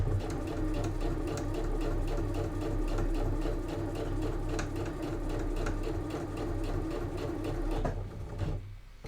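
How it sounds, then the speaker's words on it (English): A sewing machine runs steadily as it stitches a fabric A5 notebook pen holder, a continuous close whirring hum with rapid needle pulses, slowing and stopping near the end. "I'm going to start sewing without reverse stitching"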